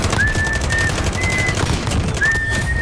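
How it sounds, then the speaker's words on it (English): Sustained rapid bursts from the Holger light machine gun in a domination match of a first-person shooter, loud and dense throughout, with short whistling game tones rising over the continuous fire. "That's Holger. Light machine gun."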